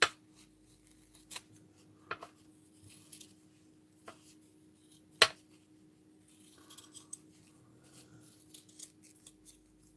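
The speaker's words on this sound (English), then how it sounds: "Need some circles, so cut round the corners off." Scissors snip round the corners of a square of material, giving quiet, scattered sharp cuts and rustles with one louder snap near the middle. No one speaks.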